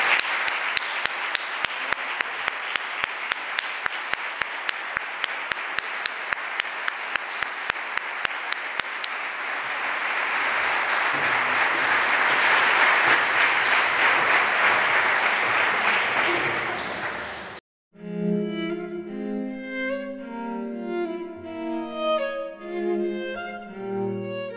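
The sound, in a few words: warm applause for health workers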